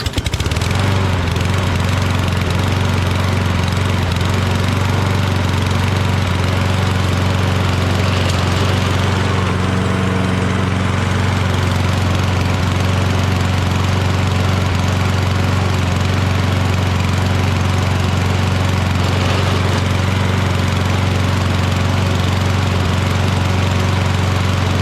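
A Toro Recycler self-propelled lawn mower with a Kohler XT675 engine and auto choke fires up and settles into a loud, steady, throbbing run close by, with no speech over it.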